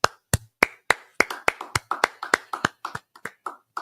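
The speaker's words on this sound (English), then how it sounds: "Go ahead and clap it up." A group clapping in unison at the start of a brotherhood class, about fifteen sharp, loud claps in a fast, fairly even rhythm, with no speech over them.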